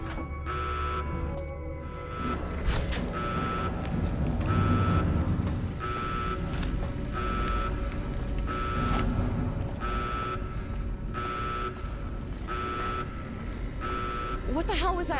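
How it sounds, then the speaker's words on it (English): A reactor self-destruct alarm from the video game Fallout New Vegas, a loud repeating electronic beep pulsing at a steady rhythm throughout, over a busy game soundscape with talk. "I've never heard this alarm before."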